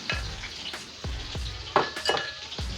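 Pork frying in a pan for a crispy Kenyan pork fry, with a steady sizzle broken by repeated scrapes and clinks of a utensil stirring the meat, close and fairly loud, no voices.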